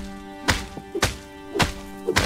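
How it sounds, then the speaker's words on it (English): Aloe plant being whacked to harvest it in the video game Enshrouded: four sharp, solid thunks spaced about half a second apart, close and clear over a faint background tone with no talking. "You have to whack the aloe. You can't just pick it at it."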